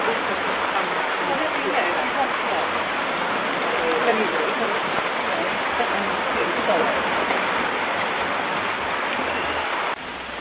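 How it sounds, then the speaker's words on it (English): Heavy rain pours down in a Costa Rican forest, a broad constant wash of noise with voices talking over it throughout. "when we arrived it was pouring with rain"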